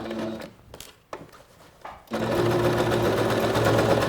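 A Singer SewMate 5400 sewing machine hems fabric, starting with a few short stitching bursts and pauses, then running continuously at a steady, close, loud hum.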